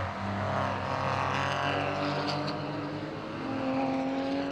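Porsche race cars roar past at Oulton Park circuit in a championship race, a loud sustained engine drone that swells and fades as they pass nearby.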